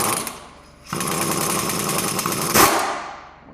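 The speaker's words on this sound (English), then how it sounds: "We're gonna work on it a little bit, so we're just gonna spin the nuts back on these bolts here." Ratcheting with a 22 mm socket as nuts are spun back onto the strut bolts of a Toyota RAV4 front strut, a steady close mechanical whirring that runs for about two seconds with a brief louder burst near the end.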